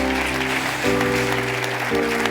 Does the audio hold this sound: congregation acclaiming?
yes